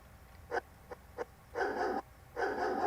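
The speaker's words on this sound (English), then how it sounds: "I got a dog." A dog gives a few short, sharp yips, then two longer, fuller barks, all fairly faint against a quiet background with no talking.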